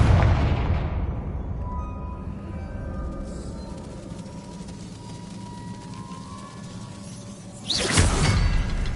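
A Confringo fire spell in Hogwarts Legacy lands with a sudden whooshing blast after a long, low rumbling stretch, followed by a crackling burst that stays loud.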